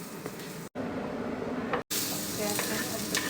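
Onion frying in a pan, a steady loud sizzle and crackle that fills the whole clip, briefly cut off twice, with faint stirring scrapes and no talk over it.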